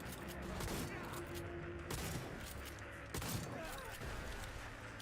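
Rapid gunfire in Cyberpunk 2077: bursts of sharp shots and heavy booms crackle over a loud, busy street-fight backdrop, with a thick thud around the two- and three-second marks, and some faint talk mixed underneath.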